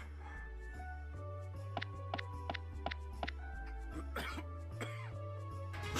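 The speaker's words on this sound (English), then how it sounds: "That cough says it all." A cough from a character in an animated comedy episode: a few short, harsh bursts over steady background music, with no speech.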